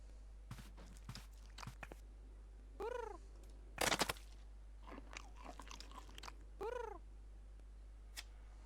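A cat in the Edna & Harvey adventure game eats pigeon-flavored cat food, giving soft crunchy bites and chewing with a few meows and purring noises, fairly close and unaccompanied by talk.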